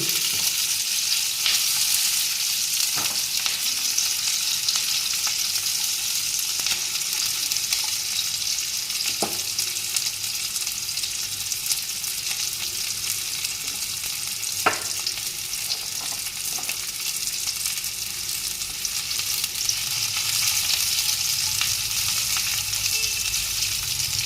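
Onions frying in a pan for chital fish curry, a continuous loud sizzle held up close for a long stretch, with a few faint clicks of a spatula and no talk.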